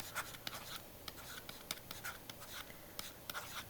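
Marker or pen writing a word on a board or screen surface, with a run of short, quick scratchy strokes and small pauses between letters, fairly faint and close, no talking.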